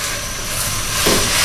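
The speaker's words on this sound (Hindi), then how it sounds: "और इसमें हमने ये मैरिनेटेड बीफ ये ऐड कर देना है लाइक दिस। इसको हमने अच्छी तरह मिक्स करना है" Marinated beef stir-fried in a hot pan for chili beef makes a loud, steady sizzling hiss that swells slightly as the meat is stirred.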